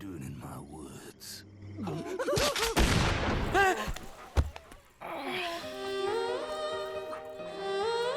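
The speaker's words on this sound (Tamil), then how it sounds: "ஓ உனக்கு துப்பாக்கி சத்தம் பிடிக்காதடா?" Gunfire in the woods during a Tamil action-thriller scene: a cluster of sharp, loud cracks in the middle and one more isolated bang a moment later, with voices and film music around them.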